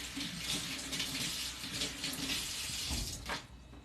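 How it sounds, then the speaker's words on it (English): A kitchen tap runs steadily while a small garden tomato is rinsed beneath it, a close, continuous hissing splash with slight shifts as the water hits the fruit and sink. "I'm just gonna rinse it really quick."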